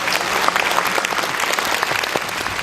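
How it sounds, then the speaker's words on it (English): An audience breaks into loud, sustained applause to welcome Lou Corona at a Celestial Art event in Fountain Valley, California, with dense clapping and a few scattered voices throughout. "Let's welcome Lou Corona with a big round of applause."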